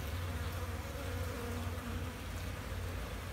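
Steady, close buzzing of many honeybees, a continuous low drone with no pauses and no voices.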